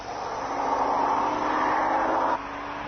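A Rover 75 V8 car climbs the Admiral Hill climb road in the Wairarapa, its engine a steady, loud drone that holds for over two seconds before dropping suddenly in level near the end, with no talk over it.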